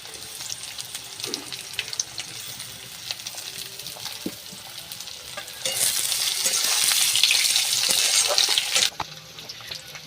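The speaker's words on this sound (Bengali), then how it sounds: "এবারে আমি আলু কাটাগুলো দিয়ে দিলাম তেলের উপরে" Cut potatoes frying in hot oil in a village kitchen, a steady crackling sizzle with occasional stirring clinks that swells louder and denser for a few seconds, then drops back to a softer hiss.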